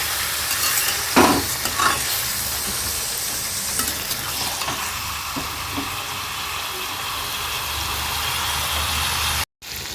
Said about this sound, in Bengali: তো এই দেখো মাংসটা কষানো হচ্ছে